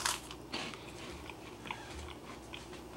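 Freeze-dried strawberry brittle bitten into up close, a sharp crisp crack followed by several quieter crunchy chews over a low background hum, with no talking.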